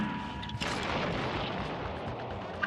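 A mini bomb goes off in a speedrun video game: one sharp burst, followed by a broad rumbling blast that decays slowly, loud and close, with no talking.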